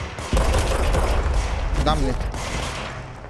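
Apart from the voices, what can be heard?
gunfire from the video game Control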